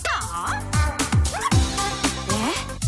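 Puppy yipping and barking in a rapid series of short, high, bending cries, several per second, close and fairly loud with whimper-like tones between.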